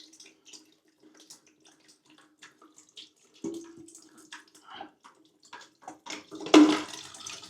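Water running and dripping from a loosened nut on a toilet supply valve down into a bucket, a faint trickle that swells into a louder splash near the end.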